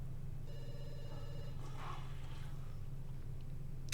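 A telephone rings in The Sims 2, a short, faint electronic trill lasting about a second over a quiet, steady game background.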